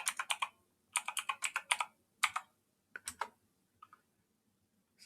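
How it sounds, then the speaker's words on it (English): Typing a password on a computer keyboard: close, crisp key clicks in quick bursts of several strokes, with pauses between groups and a few lone taps at the end. "And I will type the correct password this time."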